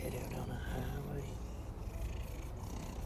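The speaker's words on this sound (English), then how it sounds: "Let's see if we get some purring going on" A house cat purrs in a steady low rumble close to the microphone, with a person speaking and singing over it.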